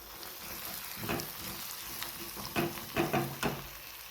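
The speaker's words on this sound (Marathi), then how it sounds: "हा सर्व मसाला असा मिक्स करून घ्या आणि मसाला असा पूर्ण मिक्स करून घ्या आणि लो गॅसवरती हे भाजून घ्या." Homemade black masala roasts and sizzles quietly in a pan on low gas, with a few soft scraping stirs towards the end.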